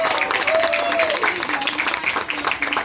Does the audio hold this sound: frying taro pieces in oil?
no